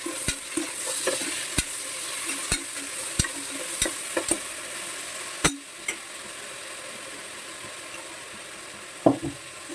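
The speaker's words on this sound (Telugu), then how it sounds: "ఒక టమాటా, ఉల్లిపాయ, పచ్చిమిరపకాయ, అల్లం వెల్లుల్లి పేస్ట్ వేస్తున్నాను" Ginger garlic paste fries in a pan with tomato, onion and green chilli, a low steady sizzle broken by a series of sharp spoon knocks against the pan, close by.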